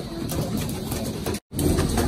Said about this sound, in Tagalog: Ito yung viewing ng kalapati ni Sir J, no?